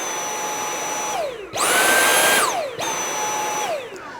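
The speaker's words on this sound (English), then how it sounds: "So very different ways of turning the vacuum cleaner on" A Dyson V8 cordless vacuum cleaner runs with a steady whine that surges to a louder, higher boost setting, then winds down and settles back to its lower hum.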